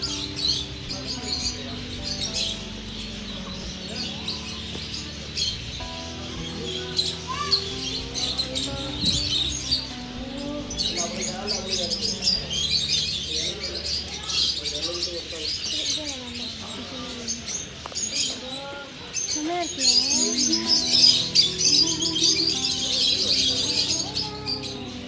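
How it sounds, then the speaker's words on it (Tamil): Pigeons and other birds chirp and twitter at Mysore Zoo, a busy mix of bright calls layered over people talking nearby, growing denser toward the end. "புறா அதெல்லாம் இருக்கும் பாருங்கள்."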